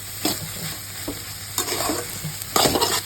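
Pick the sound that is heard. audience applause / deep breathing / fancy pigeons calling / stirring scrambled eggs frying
stirring scrambled eggs frying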